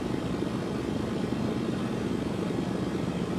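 Steady, droning engine and wind roar of an aircraft gliding with flaps off in the game SimplePlanes 2, continuous and even with no talk.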